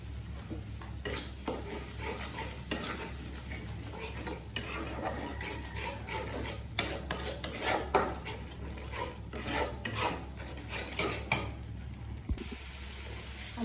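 Chili powder and spices being fried and stirred in oil in a pan for a dried fish (loitta shutki) bhuna, a steady scraping, rasping stir with a constant low hum beneath, louder clustered strokes in the middle, no talking.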